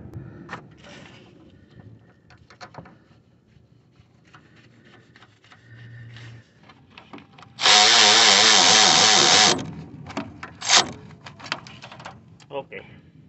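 A power tool drives a screw while a rack and pinion is fitted on a 1999 Chevy Silverado 5.3, with a loud close whirring burst of about two seconds amid clanks and handling noise, under someone speaking Spanish.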